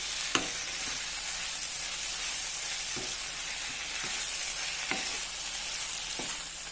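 Okra and onions are being stirred in a hot pan, frying with garlic, red chilies and tomatoes: a steady sizzle with occasional sharp spatula taps at intervals, close and clear, no voices.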